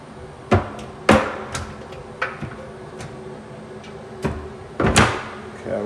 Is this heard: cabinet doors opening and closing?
yes